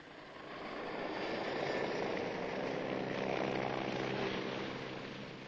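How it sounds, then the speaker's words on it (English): A rescue helicopter flies past, its rotor and engine drone swelling from faint to a steady roar and fading slightly at the end, heard alone. "they use helicopters"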